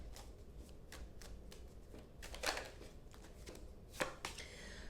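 Tarot cards shuffled and drawn by hand, a quiet close series of crisp riffling flicks and slaps with a couple of louder bursts.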